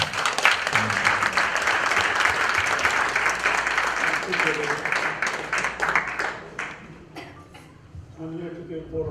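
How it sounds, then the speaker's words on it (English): A crowd at a spiritual gathering with a swami claps heartily for a temple donor. The applause is loud at first, then thins and fades to scattered claps, with a voice emerging near the end. "So give once again a big clap for"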